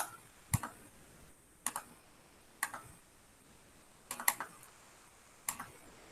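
Typing on a computer keyboard comes as a few short bursts of crisp key clicks with pauses between them, close and fairly quiet in an otherwise still room.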